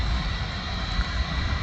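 Boeing 757 jet engines roar steadily at a Manchester Airport viewing park, a loud continuous rumble with a high whine, close and unbroken.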